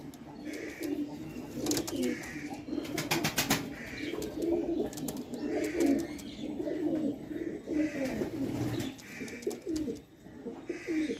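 Several pigeons coo in repeated soft, throaty phrases throughout, close by, with occasional sharper chirps and rustles in between.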